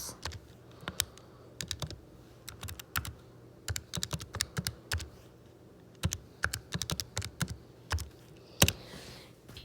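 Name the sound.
typing numbers into a calculator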